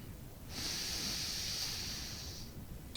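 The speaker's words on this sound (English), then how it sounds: "And then always coming back to that slow, controlled breathing." Slow, controlled breath drawn in and out through the nose during a gentle morning mobility routine, heard as one long, steady airy hiss lasting about two seconds, close and soft, with no talking.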